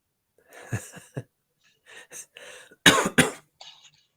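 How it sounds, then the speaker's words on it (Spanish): Several harsh coughs and throat clearing, a few scattered early ones, then two loud close coughs in quick succession. "Perdón, andamos con tos."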